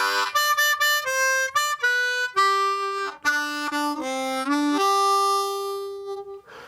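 A blues harmonica loop played alone on draw and blow notes, a string of short repeated reedy notes in a loose rhythm that ends on a long sustained tone, close and clear with no speech.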